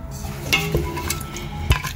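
A spoon stirs green-masala mutton in an opened pressure cooker pot, giving close scraping and a few sharp metallic clinks over a faint sizzle.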